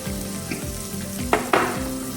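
Chopped onion sizzles in melted butter in a pan for cream of mushroom soup, a steady crackle with a rhythmic low scraping of stirring and two sharper hissing bursts near the end.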